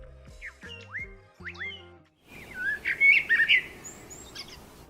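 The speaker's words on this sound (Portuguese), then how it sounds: "Tem poucas coisas que eu gosto mais pela manhã do que ouvir o canto dos pássaros." Birds sing in the morning, bright chirps and whistled phrases layered over a steady background hiss, with a clearer cluster of trills in the middle, moderately close and without talk.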